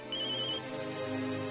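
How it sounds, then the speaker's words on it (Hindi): A mobile phone ringtone plays close by, a bright electronic melody with a short high chime at the start followed by sustained tones, alone and without speech. "एक मिनट, मानव का फोन"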